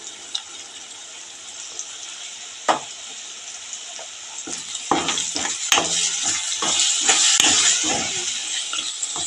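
Ginger-garlic paste and curry leaves fry in a hot pan for a village-style prawn and brinjal curry, a steady close sizzle with scraping stirs and clinks that grow busier and louder in the second half, with no talking.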